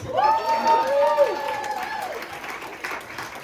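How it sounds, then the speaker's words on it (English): A stand-up comedy crowd at a New Year's Eve show applauds and cheers, with steady close clapping throughout and a voice whooping over it early on before the cheers trail off. "Give yourselves a round of applause"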